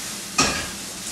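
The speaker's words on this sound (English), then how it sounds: "I'm pan frying some plain chicken for my darling son." Plain chicken hisses in a frying pan, a close, steady sizzle with one brief louder burst of spitting near the start that fades back into the hiss.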